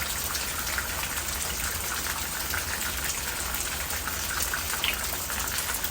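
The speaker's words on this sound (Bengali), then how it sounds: "বাইরে রান্না করছে বৃষ্টির মধ্যে আমরা" Steady rain pours down outdoors, a dense, even hiss of drops with no break and no voices.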